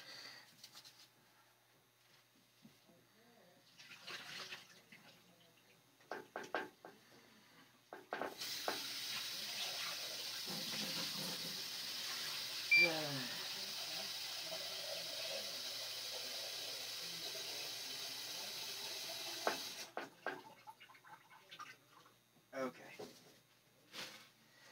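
A tap runs in a steady broadband gush for about ten seconds in the middle, with a person talking before and after and moving around between.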